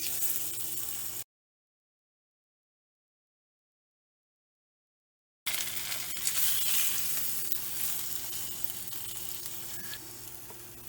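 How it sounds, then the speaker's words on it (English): Dahi ke kebabs shallow fry in hot oil in a non-stick pan, giving a steady close sizzle and hiss. The sound cuts out for a few seconds and then resumes just as strong. "We'll shallow fry this dahi ke kebab."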